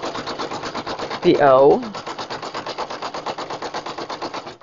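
A Brother PE770 embroidery machine runs a tack-down stitch around the hoop, a steady rapid mechanical chatter filling the clip while a brief voice speaks over it partway through.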